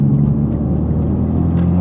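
A Mitsubishi Evo X on an E85 tune with a bigger turbo accelerates at half throttle onto boost, giving a loud, dense, continuous low rumble heard close up with no talking.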